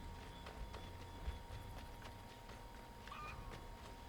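Horse hooves clip-clop at a walking pace in Assassin's Creed III, the horse following through a forest of thick trees, a steady soft patter under faint ambient game sound.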